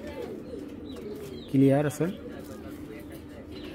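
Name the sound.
Lal Moshal female pigeon cooing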